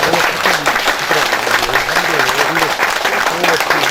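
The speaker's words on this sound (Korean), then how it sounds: "격려 박수를 부탁드립니다" A crowd at a building completion ceremony in Jeonju claps steadily to encourage a lawmaker, a dense continuous burst of applause with voices speaking over it.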